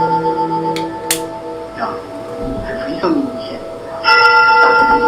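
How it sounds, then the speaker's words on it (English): Bells ring out in sustained, resonant tones, with a few sharp strikes and louder clangs near the end, while a person talks over them. "I also hear temple bells, so this could have taken place during a ceremony"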